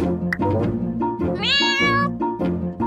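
Cartoon kitten in a children's animated show gives one clear, high, wavering meow over a steady background of music, with no talk.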